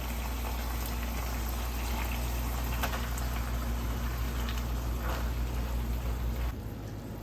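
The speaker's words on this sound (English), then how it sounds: "Now I'm just going to let this simmer." A browned ground beef mixture with tomato paste and diced tomatoes for keto cabbage rolls simmers in a pan, giving a dense, steady bubbling hiss that stays loud and close and eases slightly near the end.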